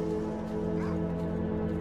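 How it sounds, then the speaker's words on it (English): A dog barks briefly at middle distance over a steady humming background, with no one talking, in the video game STALKER: Call of Pripyat. "Thought I heard a dog barking."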